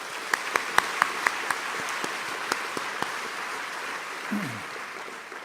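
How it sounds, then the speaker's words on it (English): Audience at a business chamber dinner applauding the event staff, soft steady clapping across a large room with a few sharp louder claps near the start. "Let's give a big round of applause to our incredible staff for making this evening possible."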